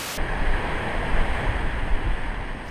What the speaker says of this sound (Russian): Дует довольно сильный ветер с моря